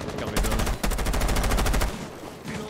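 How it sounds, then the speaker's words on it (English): Rapid automatic gunfire from Rainbow Six Siege as a player pre-fires a window, a loud burst of closely spaced shots lasting over a second, followed by quieter game ambience. "he's pre-firing the window when he comes in"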